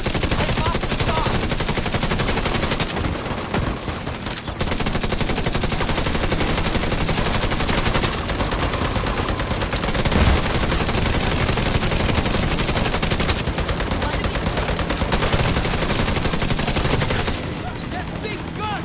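Sustained automatic gunfire from the video game The Division 2, loud and continuous for most of the stretch with brief pauses, over busy game effects.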